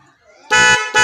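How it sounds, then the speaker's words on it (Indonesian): A motorcycle snail horn, freshly wired through a relay, blares loudly in two close blasts, the second starting just after the first cuts off. "Nah itu ya hasilnya, klaksonnya udah nyala."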